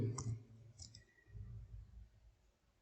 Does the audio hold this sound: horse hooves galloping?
no